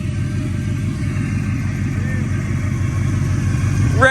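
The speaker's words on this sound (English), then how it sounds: "We can do a burnout now." A 1988 Monte Carlo with 3.73 gears runs loud and close in a steady, rumbling low drone, with a brief rising whine at the very end as it starts a burnout.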